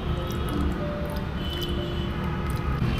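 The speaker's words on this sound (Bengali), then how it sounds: "এই অবস্থায় এবার এর সাথে জল মিশিয়ে এটার পাল্পটাকে বের করে নিতে হবে।" Boiled, peeled mango pulp squeezed by hand with water, a steady wet squishing and squelching up close, continuous and fairly loud for the whole stretch, no talk.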